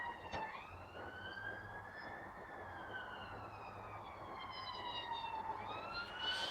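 A faint, distant siren wails with slowly rising and falling tones over low background noise.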